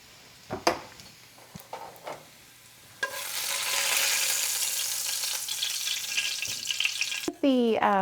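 Chopped onion hits leftover bacon grease in a hot pan and erupts into a loud, steady sizzle after a few quiet clinks, crackling continuously for several seconds before a brief metallic scrape.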